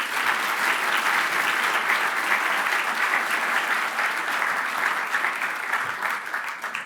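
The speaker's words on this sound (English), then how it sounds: "please give them a round of applause" An audience at an outdoor Party on the Green program gives sustained, dense applause from many hands. The clapping stays even and fairly loud throughout with no talking over it.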